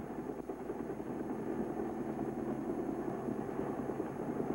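Small helicopter gunships at a naval base in the Delta, flying for Operation Game Warden, give a steady, continuous rotor-and-engine drone that fills the whole stretch, with no voices.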